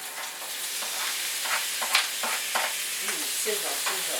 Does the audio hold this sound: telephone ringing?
no